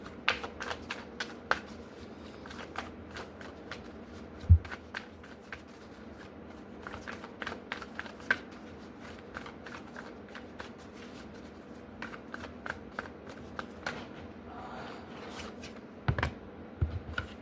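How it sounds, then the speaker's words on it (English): Tarot cards are shuffled over and over, giving a steady run of soft riffling clicks and taps, close up and with no talking. "Shuffle for Virgo."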